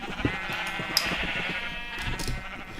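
Sheep in a Minecraft-style crafting game bleat repeatedly, several short wavering calls spread over a few seconds, clear and fairly close with a soft farm ambience beneath.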